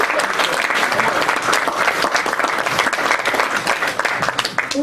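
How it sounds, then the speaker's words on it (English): Steady applause from a family gathering at a wedding celebration fills the whole stretch, dense and loud, with a few voices mixed in. "let us clap our hands"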